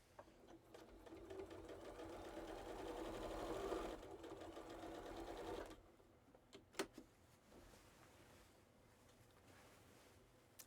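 Sewing machine quilting at high speed in a converted school bus, a fast steady whirring hum that builds for several seconds then drops away, followed by a few faint clicks and knocks, fairly quiet.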